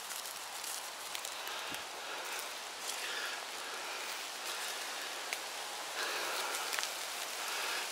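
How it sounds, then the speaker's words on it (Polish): Steady rain patters through a forest during a mushroom hunt, a dense even hiss of drops on leaves with occasional louder taps, continuous and fairly close throughout. "Deszcz pada."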